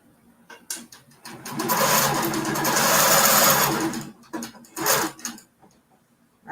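A King Quilter II Elite longarm quilting machine stitching binding, running in a loud sustained whirring burst of a few seconds, with short start-stop stitch pulses before and after.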